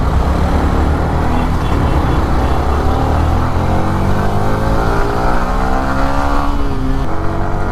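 Cars crawl through a traffic jam on the road up to Nandi Hills, with a dense, steady wash of engine rumble and road noise, and one vehicle's engine rising in pitch near the end.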